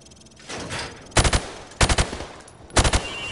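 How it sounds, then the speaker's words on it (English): A rifle in a video game is fired from the hip at targets on a firing range in three loud, close bursts, each of about three rapid shots, separated by short pauses. "Now, shoot at the targets while firing from the hip."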